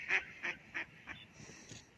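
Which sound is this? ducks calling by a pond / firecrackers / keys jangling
ducks calling by a pond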